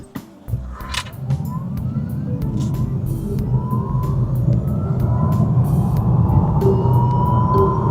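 A VinFast electric car accelerates hard from a full stop, its motor whine climbing steadily in pitch as it gathers speed, with road and wind noise swelling beneath, close and loud with no one talking.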